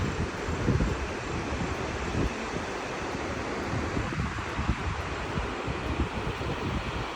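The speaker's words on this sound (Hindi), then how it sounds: "शाम के टाइम यहाँ पे मामू के घर में बहुत ही मस्त हवा चली है, ठंडी ठंडी हवा का असर" Steady cool evening wind blows across a village in the Himachal hills, a continuous broadband rush with gusty fluctuations buffeting the microphone throughout, no voices present.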